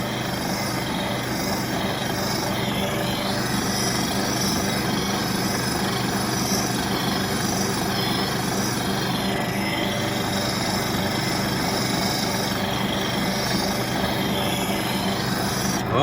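A woodturning tool's bevel is sharpened against a grinding wheel: a continuous, even abrasive grinding of steel with a bright, gritty edge, held steady and fairly close for the whole stretch with no talk.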